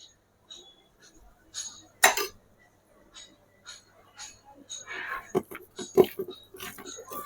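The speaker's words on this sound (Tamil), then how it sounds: "நல்லா இந்த மாதிரி பிசைஞ்சி வச்சுக்கணும்" Chicken is worked by hand with chilli powder, garam masala, ginger-garlic paste and salt, giving wet squelching and soft slaps in irregular bursts, with a few sharp clinks of a dish in between, close up and fairly quiet.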